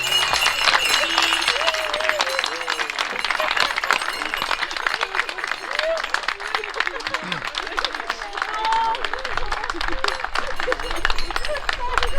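A crowd applauds to welcome a teacher at the school steps, with brisk, dense clapping from many hands that continues throughout, mixed with voices, excited calls and crowd chatter.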